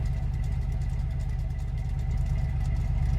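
A car engine, slow to start, idles steadily with a low, even rumble and faint rhythmic pulsing, close by, with no voices.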